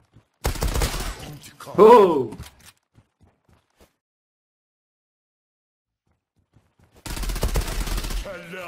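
Bursts of Kriss Vector fire in a video game, one rapid burst early and another dense burst near the end, with a shout and quiet gaps between.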